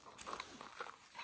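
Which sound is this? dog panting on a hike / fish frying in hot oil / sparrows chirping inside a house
dog panting on a hike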